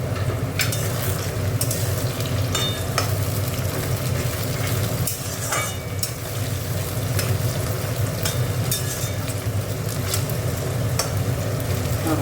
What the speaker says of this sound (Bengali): দেখো টমেটোটা দিয়ে দিলাম। পেঁয়াজটা বেশি ভাজলাম না, হাফ ভেজেছি।